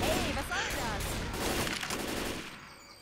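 Rapid, dense gunfire in Left 4 Dead 2, bursts of shots overlapping in a loud continuous volley that tapers off at the end, with a voice talking at times.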